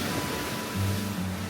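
Ocean waves at a beach wash in as a soft, steady broadband hiss, with a low rumbling swell building partway through, fairly quiet and without voices.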